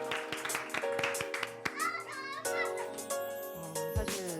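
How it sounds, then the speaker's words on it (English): A round of applause in a studio setting, distinct hand claps over background music with sustained tones, close and fairly clear, with a voice briefly mixed in. "Please give her another round of applause."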